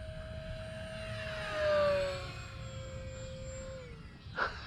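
An E-Flite RV-7 RC model plane makes a low fast pass, its motor whine rising and sweeping down in pitch as it passes, moderately distant over steady background noise.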